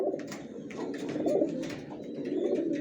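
Racer pigeons calling in a loft, with soft repeated cooing pulses from a nearby bird over a steady low murmur, no talking.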